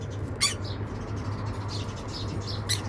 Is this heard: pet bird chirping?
yes